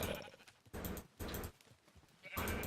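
Sheep in the Minecraft video game bleat in three or four loud, close calls with short gaps between them, and no speech is heard.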